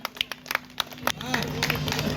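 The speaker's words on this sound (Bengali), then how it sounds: "একটা জোরে হাততালি হোক।" Applause for the first-place club at a Saraswati Puja prize ceremony starts as scattered claps and swells into steady clapping from a crowd, with a voice over a loudspeaker talking through it.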